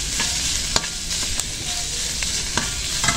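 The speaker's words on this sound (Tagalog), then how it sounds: "Sasangkotsa lang siya pag babrownin." Beef for pares sautéing and browning in a hot pan, a continuous close sizzle and fry punctuated by sharp scrapes and clinks of a utensil stirring the meat, with no talking.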